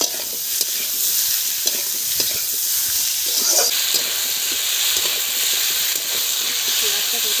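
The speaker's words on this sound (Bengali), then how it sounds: "আচ্ছা, এখন ভাজা হতে থাক।" Potatoes and onions fry with salt and turmeric in a pan, a constant loud sizzling hiss with occasional scraping stirs across the whole span.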